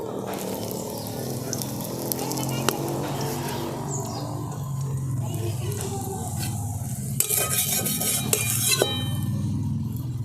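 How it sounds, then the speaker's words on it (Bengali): Homemade tiffin snacks fry slowly on low heat in a little oil, a gentle steady sizzle close by with occasional utensil scrapes and clinks as they are turned. "কম কম আঁচে এটাকে আস্তে আস্তে ভেজে নিতে হবে।"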